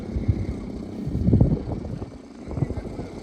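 An Arrows 1400mm Sky Cruiser, a Cessna-style RC plane, runs its electric motor at full throttle in flight, a fluctuating distant drone rising and falling, with a voice talking over it.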